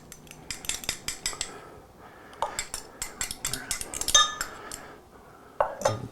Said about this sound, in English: And I'm just mixing here with a fork.